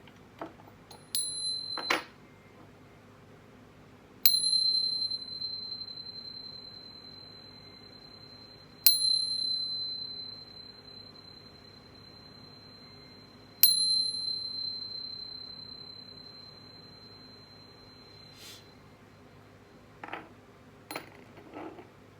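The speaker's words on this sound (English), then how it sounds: "But first, let's chime." A chime bell rings out clearly four times at spaced intervals, each bright strike ringing on and slowly fading, with a few softer taps at the start and end over a quiet background hum.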